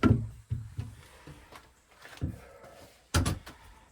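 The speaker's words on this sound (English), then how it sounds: "If I can shut the door with me in here" Several dull thuds and knocks in an enclosed space, led by a strong first impact and another firm bang near the end, like a door being pushed shut and latched, with smaller bumps and rustles between.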